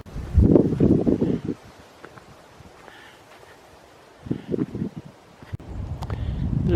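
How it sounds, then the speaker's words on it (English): Gusty morning wind on a hike through Iroquois Park buffets the microphone in loud, low rumbling bursts that come and go, with quieter stretches of faint rustling between them. "I don't think the birds like the wind, and it is pretty windy this morning."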